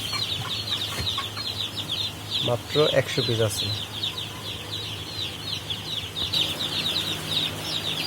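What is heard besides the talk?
tiger chickens clucking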